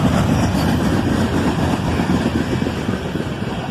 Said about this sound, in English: this single ES44 ACH leads this northbound manifest train out of town